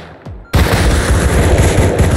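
Sustained automatic AK rifle fire in the survival game Rust, a long loud unbroken burst of rapid shots after a brief quiet lead-in.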